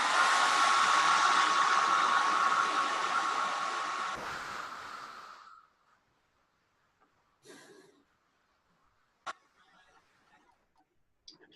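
A hair dryer blows steadily at close range to dry paint on a hand-painted Christmas lantern ornament, then switches off, leaving quiet with a few soft knocks and handling sounds.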